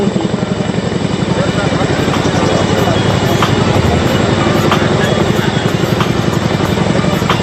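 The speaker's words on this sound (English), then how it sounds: "the Chinooks in front of you carrying out a rear takeoff" Chinook helicopters at an Indian Air Force air show rehearsal in Bhopal carry out a rear takeoff, their twin rotors thudding in a loud, steady, rapid beat with a constant engine roar.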